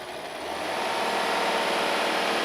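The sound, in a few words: Rolls-Royce 6.75 litre V12 engine revving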